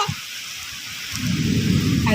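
Rain and storm wind outdoors during the year's first rain, a broad rushing noise that swells louder and denser partway through, with scattered drops and faint gusts.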